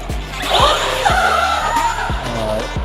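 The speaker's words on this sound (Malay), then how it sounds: "Itu dia, tayar berkokok di situ." An ARRMA Granite 3S RC car on a test run gives several sharp tire squeals and skids, with whining motor sweeps rising and falling over close, loud bursts of driving noise.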